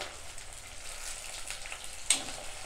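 Green chillies, curry leaves and coriander sautéing in hot oil in a pan for a village-style fish curry, a soft continuous sizzle with faint stirring and one brief sharp crackle near the end.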